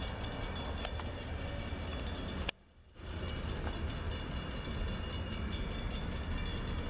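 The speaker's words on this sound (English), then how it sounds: "been hearing that train for a long time" A train passes through town, a steady, loud rumble of rail cars rolling by, briefly cut out once before the continuous roar resumes.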